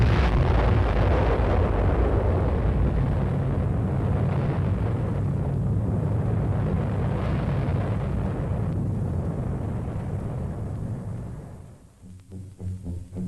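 An atomic bomb test explosion in the desert rumbles as a long, heavy, continuous roar that slowly fades, ending in uneven low crackling, with no voices heard.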